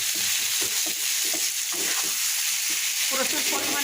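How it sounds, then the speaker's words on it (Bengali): Mashed taro being stirred and mixed into a sizzling pan for a healthy home recipe, with steady frying hiss throughout and soft scraping stir strokes, close up and without talk. "এখন ভালোভাবে নেড়ে চেড়ে মিশিয়ে দিতে হবে"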